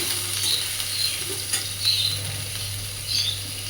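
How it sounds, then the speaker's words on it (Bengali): Taro stolons (kochur loti) fry in oil in a pan with a soft, steady sizzle over a low constant hum, punctuated by a few faint clinks and stirring movements. "প্রচুর লত্তিগুন এই তেলের মধ্যে দিয়ে একটু ভেজে নেব"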